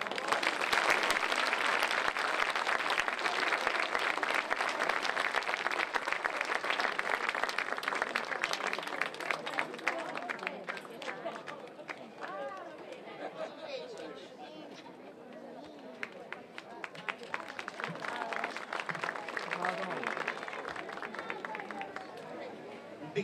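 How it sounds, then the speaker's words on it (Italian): An audience bursts into dense, sustained applause for an award being presented, dipping midway and then swelling again, with crowd chatter mixed through the clapping. "insieme al vostro applauso."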